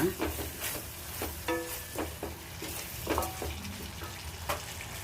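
Masala frying in oil in a pan until the oil separates, a steady close sizzle with intermittent scraping stirs and no talking.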